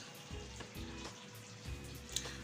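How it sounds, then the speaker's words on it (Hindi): Ghee poured into half-melted sugar in a pan for makhandi halwa, giving a steady low frying sizzle with a few soft clinks and stirring scrapes, close and alone. "अब इस पॉइंट पे मैं ऐड कर दूँगी घी।"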